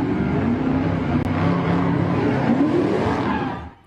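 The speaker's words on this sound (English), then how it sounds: "Cars doing donuts in plain view of police for more than 90 seconds before they sped away" Cars doing donuts during a New Year's Eve street takeover on Hopple Street in Camp Washington, Cincinnati: a loud, steady engine roar with rising revs and tire noise that holds for several seconds, then drops away at the end.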